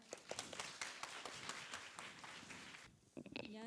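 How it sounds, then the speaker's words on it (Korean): Audience applause at a school mock-trial competition, a steady burst of many hands clapping that runs for about three seconds before thinning out, with a brief voice at the end. "힘찬 박수로 응원해 주세요."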